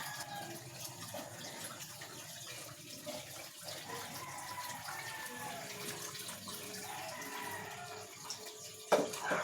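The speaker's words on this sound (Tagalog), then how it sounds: "Gugas na tayo ng bigas para luluto na natin ito." Water splashes and trickles close by in a sink as rice is washed, with swishing and sloshing sounds and a sharper knock near the end.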